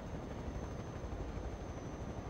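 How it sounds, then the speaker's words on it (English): Helicopter landing in the game Garry's Mod, a steady dense rotor and engine roar that stays constant and fairly loud throughout the short moment, with no other sounds. "I'm almost landing the helicopter."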